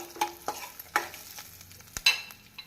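Asafoetida and three dried red chillies frying in hot oil for a temple-style puliyodharai tamarind mix, with steady sizzling and several sharp scraping stir clicks close by, no voices.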